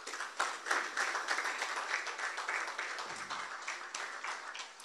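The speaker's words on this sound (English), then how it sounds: "Please keep clapping, keep clapping." Audience applause at an evening members' event in Nigeria as a speaker is welcomed to the podium: sustained dense clapping, loud and continuous for several seconds, with no talk over it.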